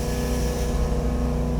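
A 1967 Chevrolet Chevelle SS engine idles and revs up close, a steady, heavy, rumbling drone with a throaty low burble that holds loud throughout the short stretch, with no voices over it.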